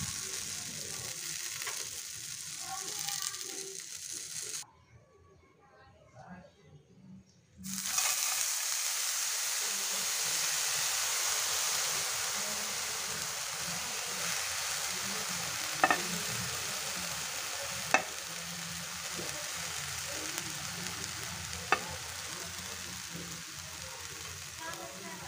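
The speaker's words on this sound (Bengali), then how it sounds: "এগুলোকে এখন একটু লবণ হলুদ দিয়ে ভেজে নিব, আর সাথে দিয়ে দিব কিছুটা রসুন" Eggplant frying in a pan with salt, turmeric, whole garlic and chili, giving a steady broadband sizzle with a short quiet gap early on and a few faint clicks of stirring later.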